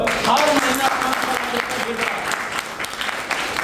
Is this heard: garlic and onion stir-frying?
no